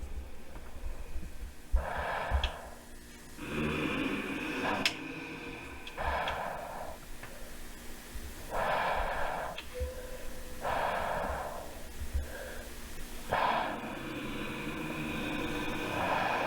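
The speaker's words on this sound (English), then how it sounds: "Something breathing down there, or like sleeping? Kinda sounded like snoring." Heavy, snoring-like breathing comes in slow, rhythmic drawn-out breaths every couple of seconds, playing from a Backrooms found-footage video with a faint ticking underneath.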